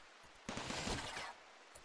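Gunfire from the RimWorld Alpha 16 modded game, heard as a single dense, rattling burst of rapid shots lasting under a second, fairly faint against a quiet background.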